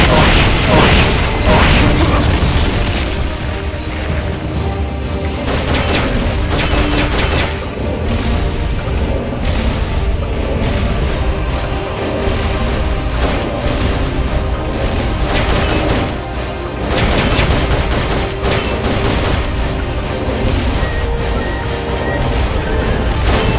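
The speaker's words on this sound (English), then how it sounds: "Firing rocket launcher." Rocket launcher fire in Metal Gear Solid: Peace Walker during a battle, heavy booms and crashing blasts repeating over a dense, loud mechanical din, with bursts and pops layered through the whole stretch.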